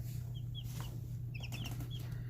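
Young chicks in a repurposed tub brooder bedded with clean sand give repeated short, high chirps and soft clucks scattered across the moment, close by, over a steady low hum.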